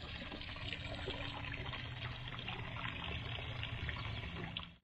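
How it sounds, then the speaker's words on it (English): Natural spring water flowing into a pond with the pump turned off, a steady, dense rush and trickle that holds even throughout and cuts off at the very end, with no voices. "So the pump is turned off, and this is just the natural flow of the spring. That is a lot of spring water coming pretty quick."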